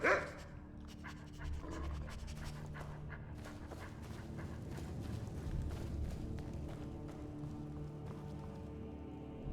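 A dog pants in Skyrim on the Nintendo Switch, with rapid rhythmic breathing and soft padding steps over a low ambient game background at moderate loudness, starting after a brief bark-like burst and with no talk.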